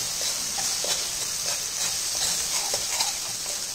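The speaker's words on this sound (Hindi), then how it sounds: "और इस मसाले को हम तब तक भूनेंगे जब तक ये तेल नहीं छोड़ने लगता।" Ground masala spices, including coriander powder, garam masala and cumin powder, frying in oil over a medium flame for an egg snack: a steady, close, bright hiss of sizzling throughout, with faint scraping stirs and no voices.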